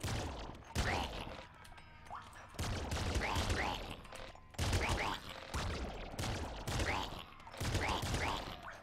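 Rapid bursts of enemy gunfire in the top-down shooter Nuclear Throne come in repeated loud volleys, mixed with other game effects, with short lulls between them.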